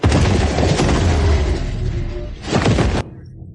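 A loud, dense volley of gunfire in a dubbed alien film, roaring continuously for about three seconds with a short renewed burst before cutting off abruptly.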